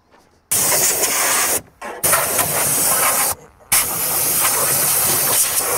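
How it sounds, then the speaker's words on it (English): A compressed-air hose blasts across a Jeep dashboard in three long loud hissing bursts, separated by brief pauses, close to the listener with nothing else audible. "First I'm going to blow it out, get the air hose in here"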